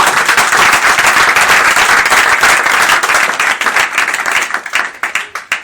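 A church congregation claps loudly and densely for several seconds, a full roomful of hands in sustained applause that thins into scattered, fading claps toward the end, with no speech over it.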